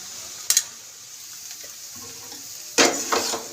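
Cooked rice added to a pan and stirred for a breakfast dish, heard as two short bursts of scraping and rustling separated by quiet moments.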